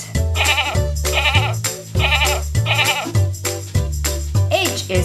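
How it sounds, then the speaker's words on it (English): Goat bleats in an educational animal-alphabet setting, with several loud, wavering calls repeating steadily against a musical backing. "G is for a goat."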